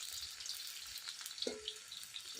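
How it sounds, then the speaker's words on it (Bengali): Onions frying until crisp like birista for Bengali khichuri give a faint, steady sizzle with a few light clinks and stirring taps, quiet and fairly distant. "এবার আমি পেঁয়াজ দিয়ে দেবো। পেঁয়াজটা বেরেস্তার মতো করে ভাজবো।"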